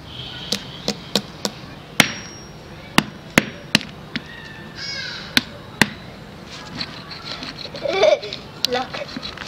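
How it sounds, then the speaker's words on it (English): A small toy hammer taps and chips at a plaster block from a kids' T. rex dinosaur fossil excavation kit, giving a series of sharp, close clicks at an uneven pace, with brief scraping and a voice speaking near the end. "I might need to use the mini hammer."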